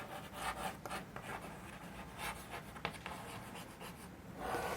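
Chalk or marker scratches and taps across a board during a third-grade mathematics class, a series of short irregular strokes with brief pauses, close and moderately loud.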